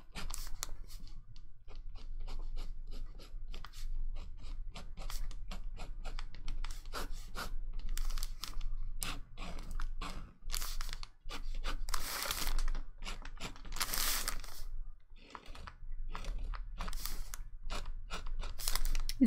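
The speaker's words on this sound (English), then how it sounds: "it still makes a sound when you use it over the textured paper" A pen scratches and rubs over textured paper while drawing, a long run of close, dry, irregular strokes and ticks with brief louder bursts, no voices over it.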